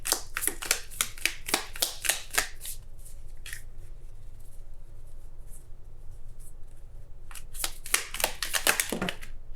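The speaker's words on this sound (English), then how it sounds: "I'll try to shuffle again in just a second" Tarot cards being shuffled by hand in quick crisp riffles, a burst at the start and another near the end with a quiet pause between, close and with no talk.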